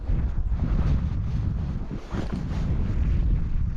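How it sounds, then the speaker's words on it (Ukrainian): Steady, heavy wind on a frozen lake buffeting the microphone, a dense low roar that holds throughout with slight dips and surges, no voices. "Вітер заважає, звісно."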